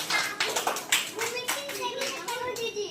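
Children clapping during a number-counting game, a few uneven bursts of hand claps close by, mixed with children's voices and an adult speaking over them.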